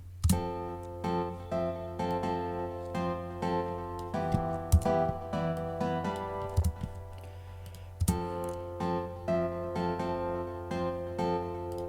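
A guitar part from a bootleg production plays busy rhythmic chords and picked notes, bright and sustained, for about twelve seconds with no talking.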